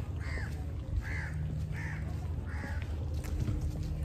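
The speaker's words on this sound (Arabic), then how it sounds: "في غراب، في اكتر من غراب شفته." Crows caw outdoors in Hurghada, four harsh calls spaced about a second apart over a quiet background hum, fairly near and clear, with no talking.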